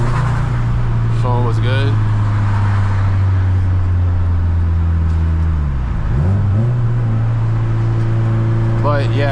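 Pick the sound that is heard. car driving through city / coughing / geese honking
car driving through city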